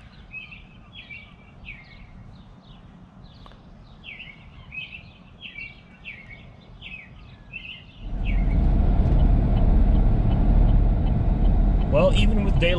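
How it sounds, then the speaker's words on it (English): Birds sing in the morning outdoors, repeated bright chirping phrases at moderate distance for about eight seconds, then a loud low truck engine rumble takes over and masks them. "It's nice to hear the birds singing in the morning."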